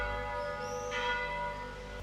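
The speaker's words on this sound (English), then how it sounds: "Maybe I'll wait for the bells to stop." Church bells ring with a sustained, resonant tone that fills a village square in Seillans, France, heard at moderate distance without any talking.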